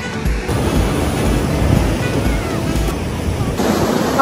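Sea waves breaking on the sandy beach at Sokcho, South Korea, heard as a steady, loud wash of surf mixed with wind noise on the microphone, continuous for the whole stretch.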